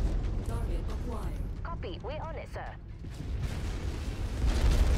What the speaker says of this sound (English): I didn't realize I was walking into an explosion